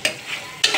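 Traditional chicken curry is stirred in a simmering pan: two sharp scraping strokes of a spoon, one at the start and one near the end, sit over a soft, close sizzle.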